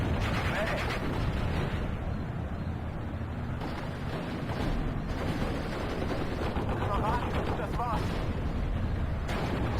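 Machine-gun fire and shelling in the WWII strategy game Steel Division: Normandy 44, set in the Normandy hedgerows. The fire forms a dense, continuous battle din of overlapping gunfire and blasts at a steady loudness.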